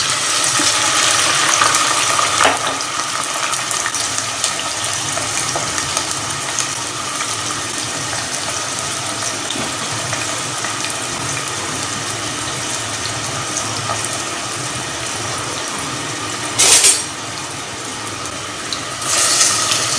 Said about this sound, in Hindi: अब इसमें हम करेले फ्राई करेंगे